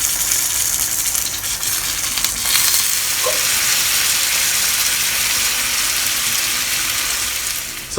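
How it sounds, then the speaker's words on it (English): Loud, steady sizzling and frying of egg tofu on a hot iron plate hisses continuously up close, with a faint tap near the middle and no voices. "Listen to the sizzling sound."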